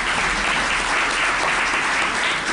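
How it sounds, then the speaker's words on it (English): Continuous applause from an election-forum audience for the speakers, a thick even wash of many hands clapping, steady and fairly loud throughout. "Why don't you give them applause right now?"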